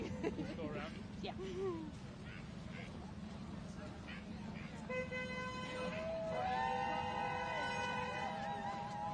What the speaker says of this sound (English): People honking as they go by.